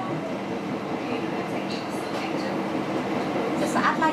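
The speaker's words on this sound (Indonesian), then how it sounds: "S32 kereta api Bandara Yogyakarta International Airport bersiap berhenti di stasiun Wojo Station." The Yogyakarta International Airport rail link train slows as it approaches Wojo station, with a steady rumble of the carriage and wheels, faint squeals and clatter, and a voice talking over the interior noise.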